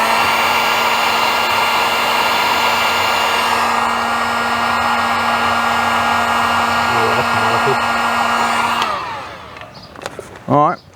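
A heat gun blows hot air onto a solder seal connector, giving a loud, steady whirring hiss for about nine seconds. It then cuts off, and a few faint handling noises follow.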